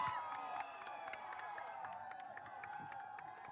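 Stadium crowd cheering and applauding for the West Vikings at the TTAADC Super League final at Khumulwng Stadium, a steady, distant roar of voices and claps with scattered shouts sustained throughout.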